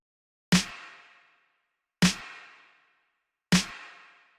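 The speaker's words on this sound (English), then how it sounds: "After that, we've got the snare clap thing" A hip-hop snare layered with a clap hits three times at an even, slow pace. Each sharp crack trails off into a short reverb tail, with silence between the hits.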